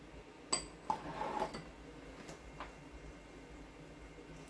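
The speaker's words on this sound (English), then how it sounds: "I'll stir them around." Dry ingredients with cinnamon, coconut flour and almond flour stirred in a bowl, giving a few faint, sparse clinks and scrapes of a utensil against the bowl in a quiet room.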